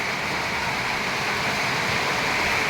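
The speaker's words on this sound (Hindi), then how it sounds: "इसी आवाज़ को सुनने के लिए मैंने चादर लगाई है कि बारिश होती है" Heavy monsoon rain drums on a metal sheet roof over a farmhouse as a dense, continuous hiss and patter, loud and unbroken, with no voices.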